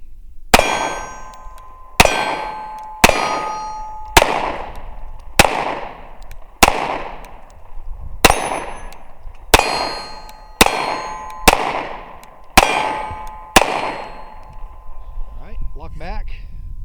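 Sig P365 pistol fired at an outdoor range: twelve loud, sharp shots in a steady rhythm, each ringing out with a short echo. Brief faint voices can be heard near the end.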